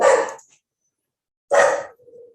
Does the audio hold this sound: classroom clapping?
no